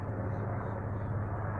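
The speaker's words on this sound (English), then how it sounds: "There's a helicopter with a water bucket." A firefighting helicopter carrying a water bucket passes far off above a smoky mountain trail, heard only as a faint, steady low drone.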